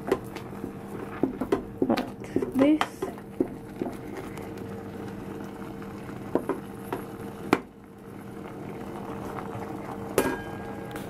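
Hot water goes into a pot while an African vegan dinner is cooking, giving a soft liquid pour and bubbling with light clinks of a pot and utensils. It sounds close and fairly quiet, with scattered sharp taps and a brief louder clatter.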